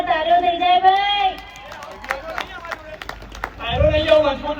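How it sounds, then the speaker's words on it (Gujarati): A crowd at a family wedding sangeet claps in a short, scattered burst between stretches of singing and amplified voices. The claps are fairly close but thin, and talking and music frame them on either side. "બધાએ ભેગા થઈને એકવાર જોરદાર તાળીઓ થઈ જાય ભાઈ"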